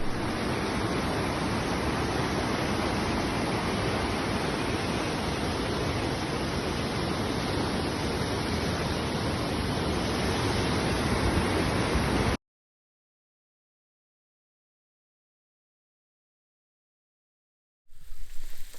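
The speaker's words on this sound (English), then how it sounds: "We are at Dunnet Beach." Waves breaking on Dunnet Beach on Scotland's north coast make a loud, steady, broadband wash for about twelve seconds. It cuts to silence, then the surf returns briefly at the end.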